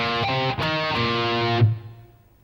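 A short distorted electric guitar phrase, a few chugging notes with a held final note that rings out and fades, played alone.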